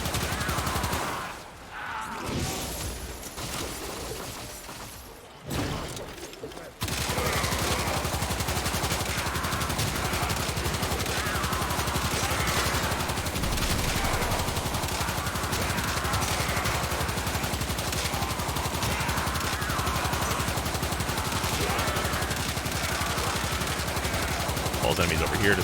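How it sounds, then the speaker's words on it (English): Knell Prime pistol fire in the Warframe video game, dense and near-continuous shooting mixed with game effects, loud and sustained after a brief choppy start, with a voice talking over it. "you can also just kind of fire at head level with the Knell"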